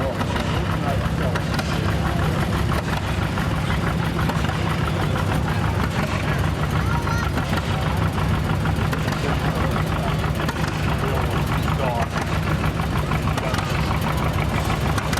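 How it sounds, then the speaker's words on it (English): A 1954 John Deere Model 70 gas tractor runs at an antique power tractor show parade, its engine a continuous low rumbling drone throughout while someone talks over it. "This is a 1954 John Deere Model 70. It runs on gas"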